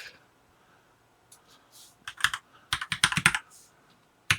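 Keystrokes on a computer keyboard while a browser address is typed to reach a Raspberry Pi Zero 2 W hotspot setup page: scattered clicks at first, then a quick close burst of typing in the second half.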